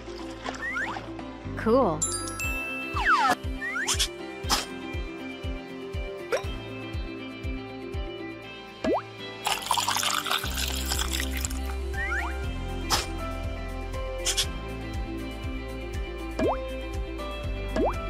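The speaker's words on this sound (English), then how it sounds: "Drop some ice in. Now stir it up." Ice dropped into a drink and stirred in a mobile flight-attendant game, heard as quick dripping, clinking and liquid splashes over a bright game music loop, with a brief spoken word.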